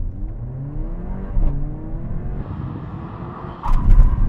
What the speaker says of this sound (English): I'm going to accelerate up to 50 miles an hour, then do a full emergency stop